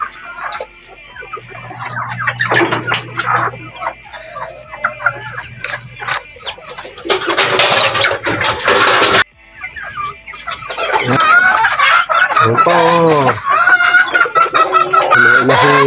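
Rhode Island Red, Black Australorp, Barred Plymouth Rock and Texas hens and roosters cluck repeatedly and a rooster crows loudly nearby, with someone talking over parts of it.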